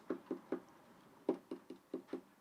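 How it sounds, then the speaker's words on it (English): A fingertip taps a piano key eight times in quiet, soft knocks: a quick group of three, a pause, then five more at a similar steady pace, close and faint. "I tap my finger on the piano and show them that"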